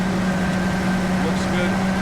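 A 2008 Ford F-250 engine holds a steady high idle with a constant low hum and a faint whine, running continuously, with nearby talk partly covering it.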